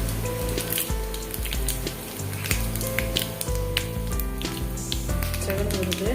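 Mustard seeds fry in hot oil in a pan for a Tamil-style chicken curry, a busy sizzle with scattered sharp pops and crackles throughout, close and fairly loud.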